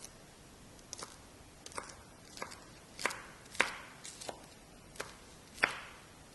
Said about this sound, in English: I will also cut the spring onion